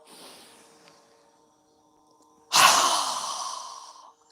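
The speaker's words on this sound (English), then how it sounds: "exhale with our mouth open wide as we lower our hands down. We're going to exhale with a strong breath." A strong yoga exhale through a wide-open mouth gives a single loud, breathy whoosh that fades over about a second and a half, preceded by a faint soft breath and near silence.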